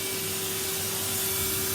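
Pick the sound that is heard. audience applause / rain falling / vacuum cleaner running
vacuum cleaner running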